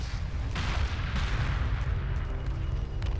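Heavy gunfire and booming weapon blasts roll continuously through a space battle in Homeworld 2, a dense, loud barrage with a few sharper hits standing out and no voices over it.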